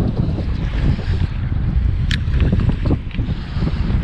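Strong, chilly wind of about 20 blowing over the water by a bridge during night crab fishing, a steady loud rushing roar with gusty buffeting against the microphone, no voices.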